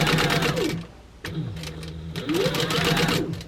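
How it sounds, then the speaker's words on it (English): A sewing machine runs at a steady stitch length of 3 through a fabric slip pocket for a crossbody bag, a close, continuous mechanical whir that pauses briefly, then restarts for more stitching and backstitching. "So now we're going to sew that."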